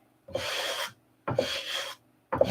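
Hand sanding of an aircraft surface with sandpaper: three close, gritty rasping strokes, each under a second long, separated by brief silences.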